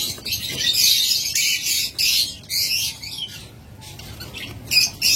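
Breeding pairs of lovebirds chirp and squawk in quick, overlapping bursts. The calls are close and fairly loud, with brief gaps between flurries and no talking.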